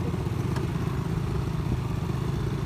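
A motorcycle is ridden on a rough, wet uphill road near Bolinao, Pangasinan, giving a steady close low engine drone with faint rattling and no talk.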